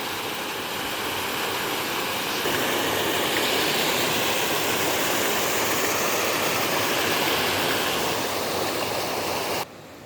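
Steady, loud rush of water pouring over a full farm dam, a continuous broadband roar with no voices, dropping slightly at the very end.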